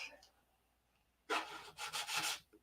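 Quiet at first, then rough, scratchy strokes of sandpaper rubbing back and forth across painted wood, knocking down brush strokes, in several close bursts with short pauses between them.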